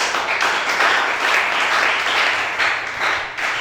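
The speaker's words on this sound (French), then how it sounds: "Acclamation." A church congregation breaks into loud, full applause, a dense continuous roar of clapping that swells and dips slightly and stays close and strong throughout.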